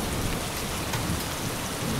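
Steady rain falls on a rainy evening in a rural Philippine setting, a dense, even hiss of drops on surfaces with no break over the whole stretch.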